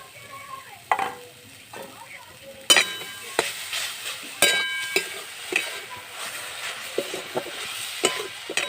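Coconut and grated date-palm jaggery filling being stirred in a pan, with soft sizzling, clinks and scrapes of a utensil against the metal in an irregular rhythm, close and moderately quiet.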